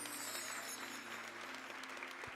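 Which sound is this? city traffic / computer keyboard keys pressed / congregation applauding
congregation applauding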